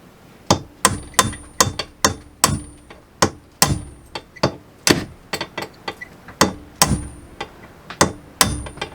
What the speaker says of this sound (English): we're going to take our hammer and our pin pusher